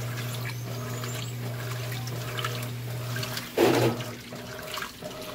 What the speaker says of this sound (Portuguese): esse barulho faz porque a pressão da água está muito forte